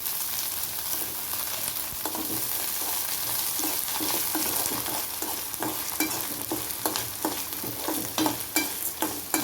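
Pirandai (veldt grape) frying in oil in a pan for chutney, a steady loud sizzle with repeated scraping stir strokes growing sharper toward the end, no voices.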